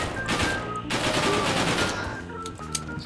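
Rapid automatic SCAR rifle fire in the video game Gorebox, two loud sustained bursts with a short gap between them, followed by a brief trailing shot.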